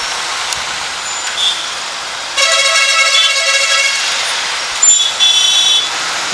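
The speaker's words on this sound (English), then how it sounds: "The buses are honking." Buses honk in road traffic, heard through a helmet-mounted camera: a long, loud, harmonically rich horn blast followed by a second shorter honk, over a steady background of traffic hiss, with no talk.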